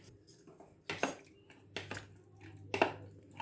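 A spoon stirs homemade watermelon tutti frutti pieces with food colour in a bowl, giving three or four separate scraping clinks against the dish, close and moderately loud with quiet gaps between.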